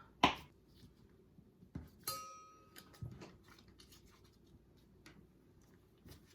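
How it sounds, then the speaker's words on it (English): A knife cuts butter into cubes, leaving a few sharp separate taps and scrapes against a cutting board, close but quiet, spaced irregularly across a hushed room. "I'm gonna cut the butter into cubes."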